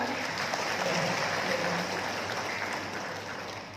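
An audience of posyandu health volunteers at a capacity-building session in Pemalang Regency claps together, a dense, fairly quiet wash of applause that slowly fades toward the end.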